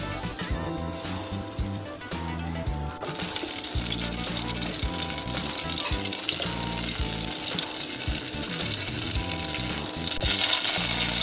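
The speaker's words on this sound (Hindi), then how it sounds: "बटर को अच्छी तरह से हम मेल्ट कर लेंगे।" Butter melts and sizzles in a pan before vermicelli is fried for colored sevaiyan. A soft frying hiss jumps louder after a few seconds and keeps building steadily toward the end, with no talking.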